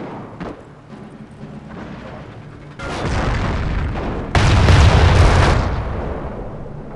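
Gunfire and artillery in a World War II strategy game, Company of Heroes, set at the Falaise Pocket. Loud booming blasts and sustained heavy bursts build in intensity with no talking.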